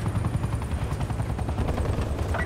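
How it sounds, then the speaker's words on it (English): An attack helicopter in the game Black Ops Cold War, its rotor thumping in a steady low pulse alongside scattered gunfire, fairly quiet and with no talk over it. "Attack helicopter."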